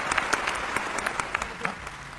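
An audience at a Hindi spoken talk claps steadily, a dense patter of many hands with sharp individual claps standing out, close and fairly loud throughout.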